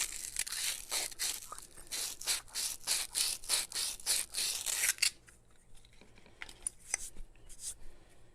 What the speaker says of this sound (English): So I'm going to just kind of go around that shaft with this emery cloth to get that rust off.